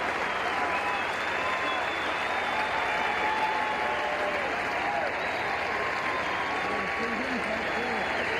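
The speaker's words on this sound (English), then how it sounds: "Now listen, the applause won't stop." The gallery at the final hole of the 1991 PGA Championship keeps up long, unbroken applause and cheering, a dense outdoor roar with a few whistles cutting through.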